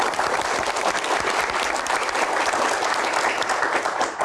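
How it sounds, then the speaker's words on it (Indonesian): An audience at a Q&A event gives Pak Bahlil a lively round of applause, dense steady clapping that fills the room loudly and evenly from start to finish. "Boleh tepuk tangan yang paling meriah untuk Pak Bahlil."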